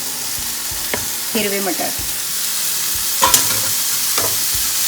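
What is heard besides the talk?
stirring roasted eggplant mixture with green peas in pan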